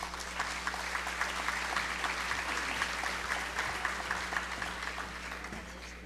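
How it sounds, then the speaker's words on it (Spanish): Steady applause from an audience at a public panel on civil service talent management, a dense even wash of many hands clapping for about six seconds with no talk over it. "Demos un aplauso a Ana María Lizárraga."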